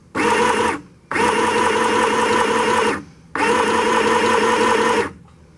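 A sewing machine stitches shirt fabric in three long, steady, loud bursts of fast mechanical whirring, with short quiet pauses between them.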